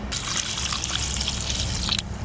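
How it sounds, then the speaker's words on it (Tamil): Water is poured over dried anchovies (nethili karuvadu) to wash them, a steady close splashing trickle that runs continuously before easing off near the end. "கருவாடு கழுவுறதுக்கு கொஞ்சம் தண்ணி ஊற்றி கருவாடை கொஞ்சம் நாளைக்கு ஊற வச்சிடலாம்"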